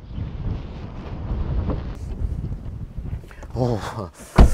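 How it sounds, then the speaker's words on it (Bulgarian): Gusty wind buffets the microphone with a low rumble beside a Volkswagen Passat B8 estate, and a person starts talking near the end. "Да влезем вътре, защото наистина много духа."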